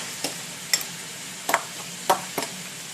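A spoon scrapes and taps in a pan as cumin and salsa are mixed together while cooking pork chops, a handful of distinct clacks over a faint, low sizzle.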